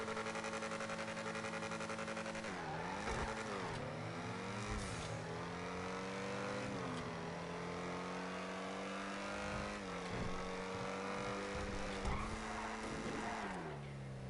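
A car in a Rockstar video game accelerates hard from a standstill with a little wheel spin. The engine revs loudly and steadily, its pitch climbing and dropping through repeated gear shifts with no one talking.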